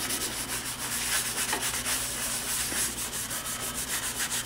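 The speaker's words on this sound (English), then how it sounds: "you're going to rub that in, and that smooths it out" Pencil shading being rubbed across drawing paper to smooth it on a portrait drawing, a steady close-up scratchy rubbing texture that continues without pause and with no talk over it.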